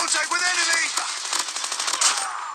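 Rapid automatic gunfire from a gun in the Call of Duty video game rattles loud and close in a sustained burst that tails off toward the end.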